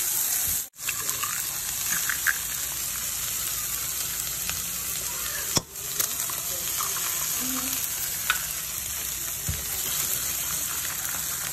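An egg sizzles at the edge of a pan beside rice over low heat, a steady broadband frying crackle filling the clip with a few sharp clicks from a utensil, and no talk.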